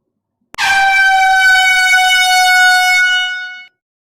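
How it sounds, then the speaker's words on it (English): A single loud air horn blast rings out alone, a steady, brassy tone holding for about three seconds before cutting off sharply. "This is the official air horn test."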